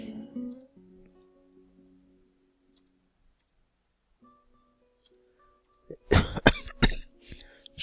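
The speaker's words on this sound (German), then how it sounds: "Entschuldigung, musste ich gerade ein bisschen husten." A person coughs several times near the microphone during a Dwarf Fortress gaming session, a loud cluster of rough bursts near the end after a long quiet stretch with faint clicks and hum.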